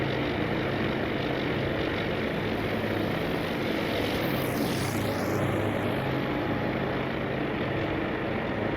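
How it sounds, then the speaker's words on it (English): Carrier aircraft take off in the naval strategy game Task Force Admiral, a loud, continuous propeller-engine drone with one plane sweeping past midway, alone and without talk. "The aircraft from Strike Package Love take off."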